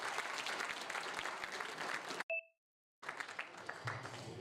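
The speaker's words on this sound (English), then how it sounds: "A huge round of applause" Dense audience applause fills a hall at a university panel discussion and closing ceremony, then cuts off abruptly, a short two-tone beep sounds in near silence, and the clapping resumes more thinly.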